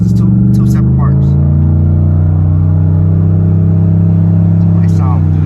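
A Chevrolet Impala SS with a newly installed exhaust idles loudly with a deep, steady exhaust rumble, revving slightly, while people talk nearby.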